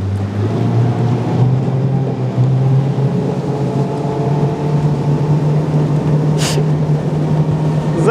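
Tunnel boat driven by a HIDEA 60 water-jet outboard motor running steadily, a loud continuous engine drone with water rushing past and wind noise.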